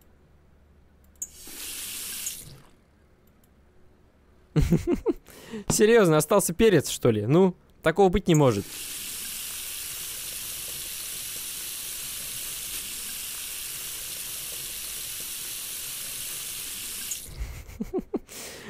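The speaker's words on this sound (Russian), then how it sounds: "А можно ее под водой помыть пойти?" Running tap water pours steadily for about ten seconds in a virtual kitchen while cod is washed under it, a hissing, even stream that follows someone talking in Russian and then gives way to more talk.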